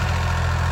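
A tractor engine idles steadily at close range, a continuous low, even rumble with no talk, held for under a second.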